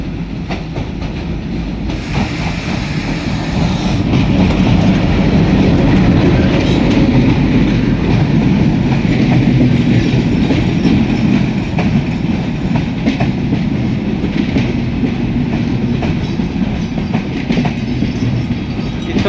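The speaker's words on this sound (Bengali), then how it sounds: "সীমান্ত এক্সপ্রেস ট্রেন এক নম্বর প্ল্যাটফর্মের এক নম্বর লাইনে ট্রেনটি প্রবেশ করছে" The Simanta Express train rumbles close by as it enters a station platform, a steady heavy roar with rhythmic clattering of wheels over rails throughout.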